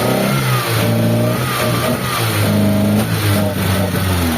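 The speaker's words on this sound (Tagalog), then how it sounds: "Kaya i-rev natin mga bossing." A Mitsubishi Lancer engine revs after long storage on stale gasoline, a loud close engine surging up and down in repeated rough revs with an uneven, faltering tone.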